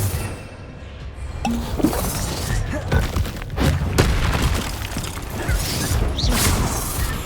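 Spell blasts in a Hogwarts Legacy duel: loud booms, crashes and shattering impacts in quick succession over a dense, roaring game soundscape, with shouted spell incantations.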